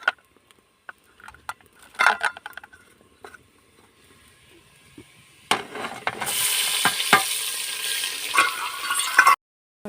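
Masala with tomatoes is fried in ghee in a pan in a village kitchen. After scattered quiet clinks and taps, a loud, steady sizzle starts with spoon scrapes and stirring noises, then cuts off sharply.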